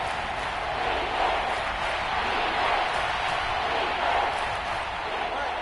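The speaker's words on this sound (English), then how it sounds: "This crowd turning up the decibel level." A stadium crowd roars in an American football video game on PS4 during a late-game Dolphins third down, a loud, sustained, even wall of cheering with slight swells.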